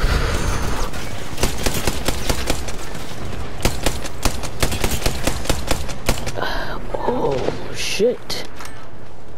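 Rapid automatic gunfire bursts crack through an Apex Legends match, dense and continuous for most of the stretch, with players talking over the shooting and a brief mechanical clatter near the end.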